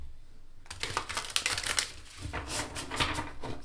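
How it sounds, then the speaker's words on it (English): A tarot card deck being shuffled by hand, starting after a brief quiet moment and then running as a steady stream of close, crisp riffling and card flutters with no talking. "Now another way I like shuffling these cards"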